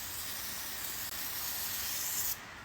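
Contact adhesive sprayed onto a fibreglass kick panel for a 1969 Mustang convertible, a steady close hiss lasting nearly the whole time before cutting off near the end.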